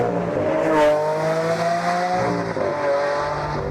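A Lamborghini Aventador, a four-wheel-drive supercar, drives hard with a loud sustained engine drone whose pitch climbs and shifts, with faint tire noise, close and continuous.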